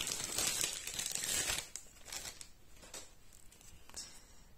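Cards from the solo board game Château de Fables are handled and shuffled: crinkly rustling and sliding of card stock, busier at first, then softer scattered rubs and flicks close by.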